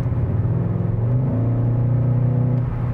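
A loud, close engine note from a Škoda Octavia RS in sport mode hums and rumbles continuously, with its pitch shifting slightly as the revs change. No talking is heard over it.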